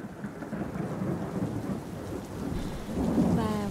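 A heavy downpour roars steadily, with deep thunder rumbling underneath and building louder near the end, a dense, continuous storm with no voices.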